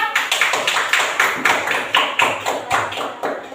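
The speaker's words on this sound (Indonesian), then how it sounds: "Kita beri tepuk tangan untuk kelompok 4" A classroom of students claps for a presenting group, the claps falling in a steady rhythmic unison beat of about three per second, close and fairly loud.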